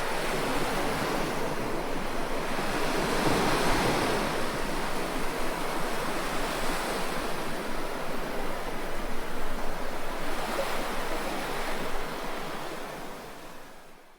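Sea waves wash steadily against the seashore in a continuous, loud roar of surf that eases off slightly at the very end, with no voices.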